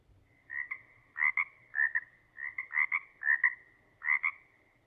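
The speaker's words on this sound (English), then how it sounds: "I will start raining frogs." Frogs croak in a steady series of about eight rhythmic, double-pulsed calls, close and clear over a faint low background hum.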